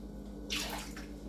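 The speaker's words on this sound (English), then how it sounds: "Maybe add a tiny little bit of water so it's not so thick." A short pour of water into meatball sauce in a home kitchen, a brief splashy rush lasting under a second, close and moderately loud over a low steady background hum.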